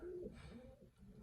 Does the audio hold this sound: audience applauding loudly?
no